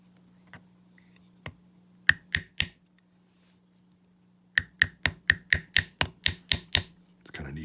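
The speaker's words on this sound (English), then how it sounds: "Mini anvil and anvil and hammer." A small hammer strikes a brass saxophone mouthpiece on a mini anvil: a few scattered taps, then a quick steady run of about ten bright metallic blows over a low steady hum.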